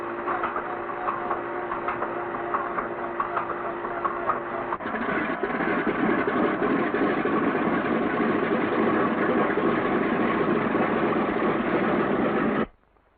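A B-17 bomber's radial engine cranks and fires, settling into a loud, steady idle with a denser, rougher roar after the first few seconds, then cutting off abruptly near the end.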